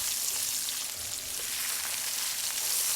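Pork chop pieces fry in a pan with a faint, steady sizzle and soft crackle, even and continuous throughout.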